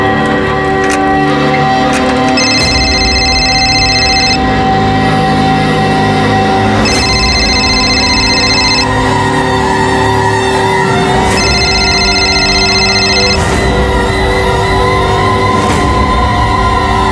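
A telephone bell rings in repeated bursts, loud and close, over a constant busy background hum.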